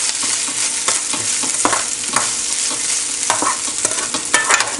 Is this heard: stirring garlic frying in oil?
yes